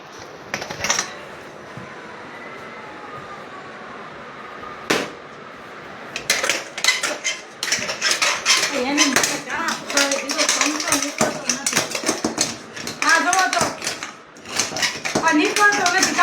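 Metal banging and scraping as a stuck samosa is knocked out of a kadai, irregular clangs and clatters growing busier after a quiet start, with someone talking over the noise.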